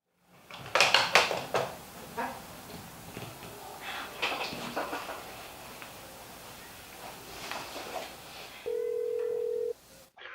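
A telephone rings near the end with one steady electronic tone lasting about a second, after clattering drawer and dish-like handling noises in a quiet room.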